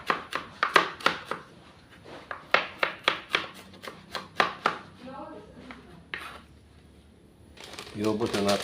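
Knife chopping onion on a cutting board in a home kitchen, a brisk run of sharp, close taps in an irregular rhythm, pausing midway before resuming, with a person talking over parts of it.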